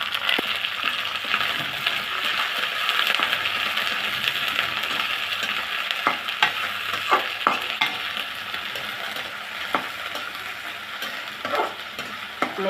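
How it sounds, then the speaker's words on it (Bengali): Shrimp frying in a hot pan give a steady, close sizzle with occasional sharp stirring clicks and scrapes, no voices. "চিংড়ি মাছটা একটু ভেজে নেব।"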